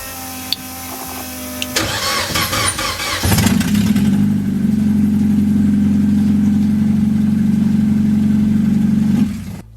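A Honda CRX rally car with a K24A2 engine cranks with a few clicks and whirs, catches, and settles into a loud steady idle close by before cutting out.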